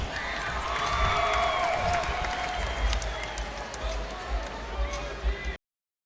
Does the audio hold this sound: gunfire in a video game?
no